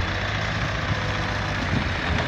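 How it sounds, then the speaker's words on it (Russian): A CASE 580 Super R backhoe tractor engine rumbles steadily and loudly while uprooting cherry tree stumps in an orchard, a continuous heavy low drone without voices. "Трактор выкапывает их быстрее и легче."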